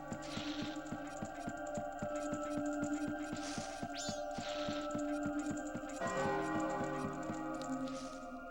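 Bell chimes ring through a cave scene in the video game Majora's Mask, steady repeated tolling over a sustained musical backdrop, with a shift in pitch partway through and no talk.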